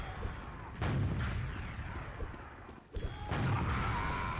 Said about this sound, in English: me using my shotgun as a sniper